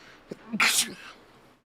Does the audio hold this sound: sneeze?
yes